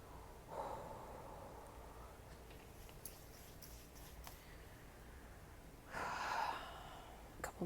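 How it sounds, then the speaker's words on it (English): Slow deep breathing during a calm breathing exercise, two long soft breaths spaced several seconds apart, faint and close with quiet between them. "Continue to breathe."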